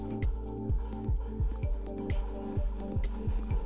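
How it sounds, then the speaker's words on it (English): Turmeric tea boiling in a pot on a stovetop, with a quick, regular bubbling and popping rhythm close up at low volume. "So we're just going to let it boil for about another minute"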